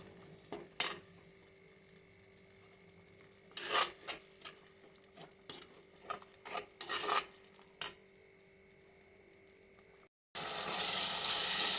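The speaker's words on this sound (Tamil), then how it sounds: "நல்லா வதக்கிக்கோங்க" Onions sautéing in a pan for catfish curry: a quiet background sizzle broken by irregular scraping and clinking stirring strokes of a spatula against the pan, close and mostly soft, ending in a sudden loud burst.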